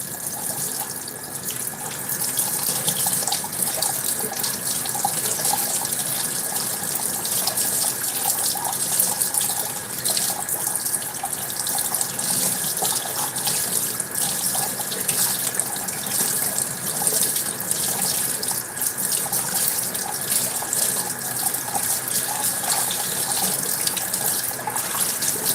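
A kitchen or utility sink tap runs steadily, water splashing into the basin as oil-based paint is thinned nearby; the flow stays loud and continuous for the whole stretch with no talking.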